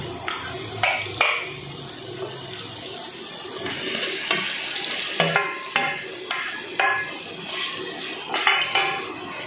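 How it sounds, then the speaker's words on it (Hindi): Onions sauté in oil with ginger and garlic in a pan, giving a steady soft sizzle broken by repeated sharp scraping stirs, close and moderately quiet. "इसको भी मैं 2 मिनट के लिए सॉटे करके, जब तक तेल नहीं छोड़ रहा तब तक इसको फ्राई कर लूँगी"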